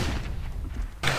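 A flashbang grenade goes off in the CS:GO video game: a dense, rumbling roar that carries on throughout, with a sharp, bright burst near the end.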